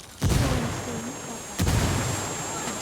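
Frag grenade blasts in Ghost Recon Wildlands, a tactical co-op shooter: two heavy booms about a second and a half apart, each leaving a rumbling tail, with voices talking over them.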